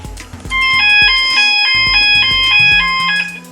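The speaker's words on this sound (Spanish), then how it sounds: "Mi compañero Jonathan me ha hecho saltar el detector de humos" A smoke detector fire alarm sounds in a shopping centre, blaring a loud, close electronic siren of repeating multi-tone chimes in a fast looping pattern, with no voices over it.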